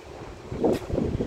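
Wind gusts buffet the microphone at a beach shaded by pine trees, a broad rumbling roar that swells and dips over a short stretch, with no talk.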